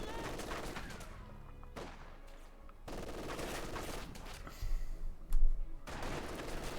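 A Maxim machine gun skirmish in Company of Heroes 2 produces repeated bursts of rattling fire with distant booms, fairly quiet and set back in the mix.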